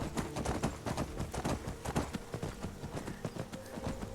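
Horse hooves clip-clop in the video game Skyrim, a quick, regular galloping beat of crisp hoof strikes running continuously and fairly close throughout.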